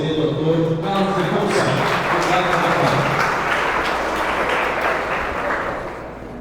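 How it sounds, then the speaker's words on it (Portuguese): Audience applause in a lecture hall at a Brazilian government talk on participatory innovation, a sustained clapping that starts under a speaking voice and then continues alone, fading slightly at the end. "Vamos aplaudir"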